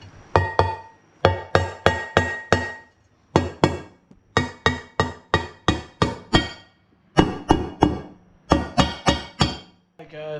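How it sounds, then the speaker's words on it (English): A hammer lightly taps a part down on a 5.3 LS V8 engine during rocker arm installation, sharp metallic clinks in quick bursts of four to six strikes separated by short pauses, close and ringing. "take a hammer and lightly tap this thing down"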